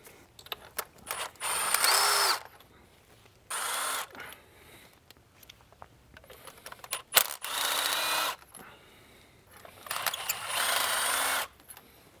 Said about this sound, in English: So now we are going to remove the spark plugs to install our one-step coilers.